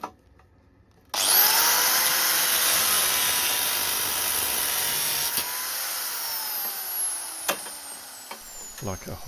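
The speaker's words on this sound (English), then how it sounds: "I'm just going straight in there with an angle grinder and a thin cutting disc." An angle grinder fitted with a thin cutting disc cuts through seized bolts on an old garden bench and gate, a loud sustained high whine starting abruptly, steady for several seconds with small pitch dips as the disc bites.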